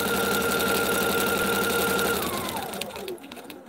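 Sewing machine stitching seams in paper piecing, a loud, fast mechanical whir with rapid needle knocking that runs steadily, then winds down and stops near the end, close and alone.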